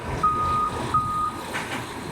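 Electronic beeping from a control while the up button is held during a yacht haul-out: two steady, fairly loud tones of about half a second each, close by with no talk.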